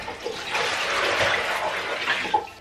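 Water runs steadily from a tap as something is rinsed underneath it in a kitchen sink while baking Spanish bread, a close, continuous splashing rush with a few brief spatters, no talk.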